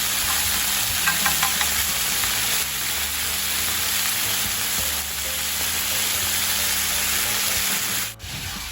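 Steak frying in sauce in a pan for a keto meal: a loud, steady, close sizzle with occasional stirring scrapes, continuous throughout and no talk.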